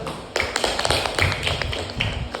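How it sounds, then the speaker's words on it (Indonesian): Classroom applause during a microteaching lesson, a brief burst of many hands clapping close by in scattered, uneven claps. "Berikan aplaus."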